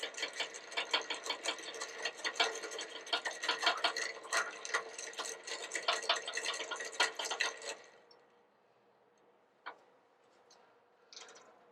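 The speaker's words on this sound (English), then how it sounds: "we're going to mix that until it becomes cloudy and that sugar at the bottom is dissolved" Old Fashioned cocktail with Luxardo cherries and syrup being stirred in a glass, a busy run of quick close clinks and ticks for about eight seconds, then near silence broken by a couple of isolated clicks.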